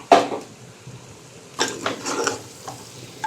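A spoon scrapes and knocks against a pan as crushed tomato is stirred into mutton masala, with a few sharp metallic clinks and a soft sizzle between them, close and moderately loud.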